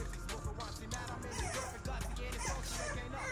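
Four-week-old pocket American Bully puppies yip, whimper and yap in a busy overlapping chorus close by, with a voice mixed in among them.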